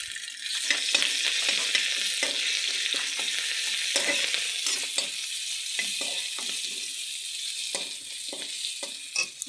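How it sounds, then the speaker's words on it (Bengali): Onion and ginger frying in hot oil for a mixed vegetable dish, a steady close sizzle with repeated scraping stirs of a spatula throughout, no voices. "ভালো করে ভেজে নিতে হবে"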